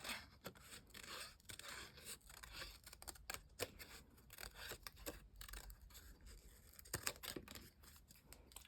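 Scissors cutting through card for a skeleton Halloween card, quiet close snips and rustling scrapes repeating irregularly across the whole stretch.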